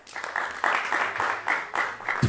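A small stand-up comedy audience claps in bursts, a few rhythmic rounds of applause close to the microphone, rising and falling.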